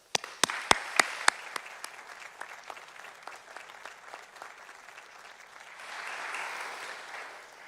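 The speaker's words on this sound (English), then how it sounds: "I just, for a moment, just want to give them a round of applause" Audience applause for graduating physician assistant students at a college dedication ceremony: a few sharp, loud early claps spread into steady clapping from a crowd, swelling again near the end.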